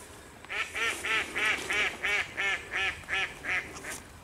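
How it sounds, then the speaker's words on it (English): Ducks on a fishing lake quack in a steady run of about eight loud, evenly spaced calls, close by, with a faint outdoor hush beneath. "I think the ducks are finding it quite funny."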